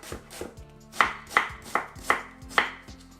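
A knife chops a white onion on a cutting board in about a dozen steady, close thuds, the strokes coming faster and sharper toward the end, with no talking.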